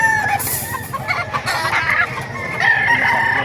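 Roosters crow repeatedly at a busy chicken market in Bocaue, Bulacan, with overlapping calls near and farther off over constant clucking and crowd noise.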